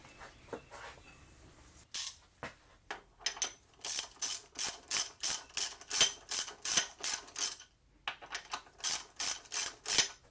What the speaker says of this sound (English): Let's go ahead and install the few bolts just to keep things in alignment.